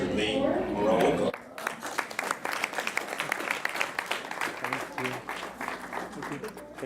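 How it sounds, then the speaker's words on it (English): An audience at an evening business talk breaks into applause for a guest speaker: a loud noisy moment gives way to scattered, uneven clapping from a modest crowd, with some voices mixed in. "So please help me give a big round of applause to Mr. Lee Muraoka."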